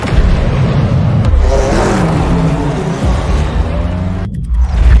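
Race cars at the Le Mans 24-hour race roar past loudly in a continuous stream of engine noise, with rising and falling pitches as cars pass, ending in a sharp cut to a different, choppier burst.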